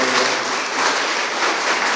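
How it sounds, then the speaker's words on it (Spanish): A church congregation breaks into applause during a sermon, a dense, even wash of many hands clapping at a fairly loud, steady level throughout. "Denle un aplauso al Espíritu Santo"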